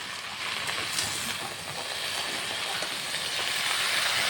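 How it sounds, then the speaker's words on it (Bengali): Leafy greens with salt and turmeric frying in oil in a pan, a steady, close broadband sizzle and hiss that runs unbroken throughout, with faint stirring beneath. "শাকটাকে তেলের সাথে কিছুক্ষণ ভেজে নেব খুব ভালো করে নাড়াচাড়া করে শাকটাকে ভেজে নিচ্ছি"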